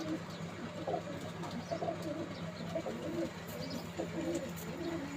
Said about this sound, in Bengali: এটা অনেক ছটফটে কবুতর